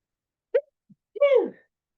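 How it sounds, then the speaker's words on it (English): A single close sneeze, a short sharp intake followed by a brief breathy burst, dainty and quick, alone against silence. "I think I'm gonna sneeze."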